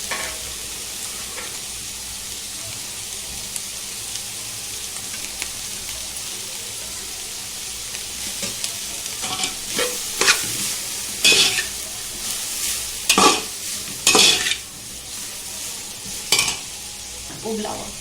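Noodles and cooked rice sizzle and are stirred in a hot pan for restaurant-style triple rice, with intermittent scraping and clanking of a utensil against metal.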